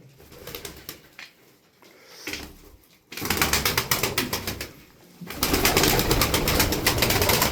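Tumbler pigeons in a loft make close, soft cooing and rustling, with bursts of rapid wing flapping and clattering that grow louder and more continuous in the second half.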